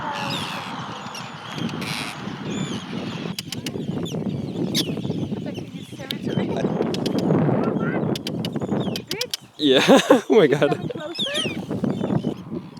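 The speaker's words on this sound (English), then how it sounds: "we keep getting attacked by birds" Harsh bird squawks and caws erupt repeatedly overhead as birds dive-bomb people in Iceland, who talk and exclaim nearby, growing louder and more frantic toward the end.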